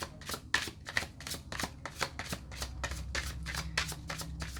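Tarot cards shuffled briskly by hand, a rapid run of crisp riffling flutters in steady rhythm, close and fairly quiet with no talk.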